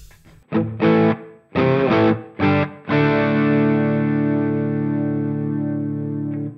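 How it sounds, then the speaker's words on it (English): An electric guitar, a Fender Strat with noiseless pickups, runs through the Studio reverb of a Sonicake Matribox 2. A few short strummed chords lead into one long ringing chord that decays slowly in a smooth reverb tail, loud and close. "Reverb, first one on the list is Studio"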